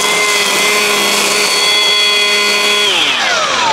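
A Milwaukee M18 17-inch dual-battery cordless string trimmer runs at a steady high whine close by, then winds down in pitch near the end.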